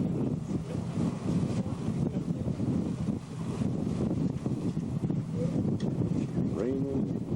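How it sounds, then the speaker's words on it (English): Wind and rain buffet the microphone outdoors on an Alaskan coast by a cliff, a steady broadband roar with gusts throughout, while people talk over it. "Raining, windy, all out here."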